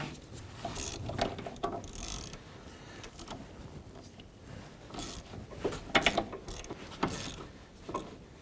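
A ratchet snugs down the bolt on the intermediate steering shaft of a 2004-2012 Chevrolet Colorado, giving repeated close clicking strokes in uneven bursts with faint metallic creaks.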